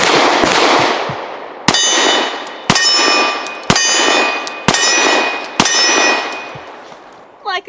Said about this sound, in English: Now we'll try the Winchester 124 grain NATO load.